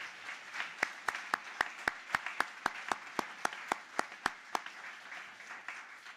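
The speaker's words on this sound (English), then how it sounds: "Let's give everybody a round of applause." At a medical school Match Day gathering, the audience claps in a steady, rhythmic unison beat, sharp regular claps over softer background applause, before the rhythm breaks off into scattered clapping.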